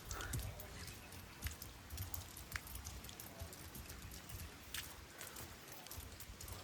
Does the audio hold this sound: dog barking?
no